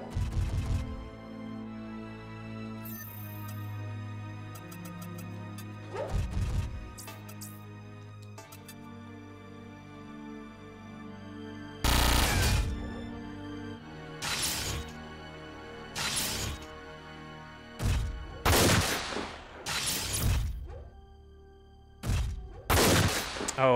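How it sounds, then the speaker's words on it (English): Mech machine-gun barrage from the strategy game Front Mission 4: a long run of loud, sharp impact bursts and crashes, some clustered in quick volleys and others spaced apart, alone with no talk. "Get that barrage. Every single bullet should hit you. A sweeping panorama of bullets."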